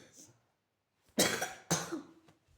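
A person coughs twice in quick succession, both coughs loud and close to the microphone, after a faint murmur at the start.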